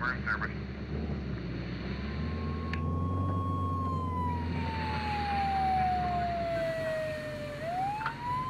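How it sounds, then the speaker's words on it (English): An ambulance siren in the Flashing Lights emergency-services game wails in a long rising and falling sweep over a rumbling engine bed, fairly close and steady, with a voice briefly talking over it. "That's not a GTA ambulance."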